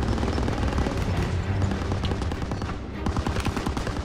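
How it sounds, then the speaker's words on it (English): Dense, rapid machine gun fire with explosive bursts in a Call of Duty: WWII battle, loud and continuous throughout. "Daniels, hit that MG! Protect our boys"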